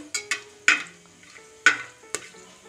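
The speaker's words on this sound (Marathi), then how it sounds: "आता यामध्ये 4 लवंगा टाकू आणि याला थोडंसं परतू।" Four cloves stirred in hot oil with cinnamon pieces in a pan for masala rice, a few sharp spoon scrapes and light sizzling taps spaced over a quiet background, close and moderately loud.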